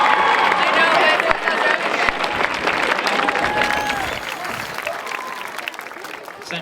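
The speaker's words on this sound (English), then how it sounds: "Applaud each band, please." A halftime crowd applauds the Centennial High School marching band with steady, dense clapping and a few scattered cheers, easing off slightly toward the end.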